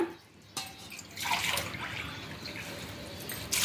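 Water poured from a glass into a cooking pot of goat trotters for soup, a soft splashing gush that builds after a quiet start and runs steadily, close and moderately loud.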